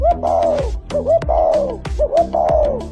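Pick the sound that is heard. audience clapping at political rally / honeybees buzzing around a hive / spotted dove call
spotted dove call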